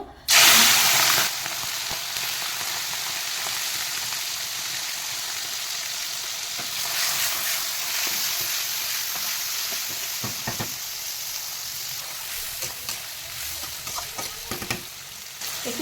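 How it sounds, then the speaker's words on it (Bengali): Shrimp fry in hot oil with a loud initial burst of sizzle as they hit the pan, settling into a steady close hiss with occasional pops and stirring knocks. "আমার তেল গরম হয়ে গেছে চিংড়িগুলো ভেজে নেব"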